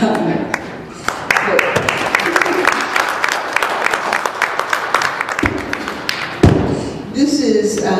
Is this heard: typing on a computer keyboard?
no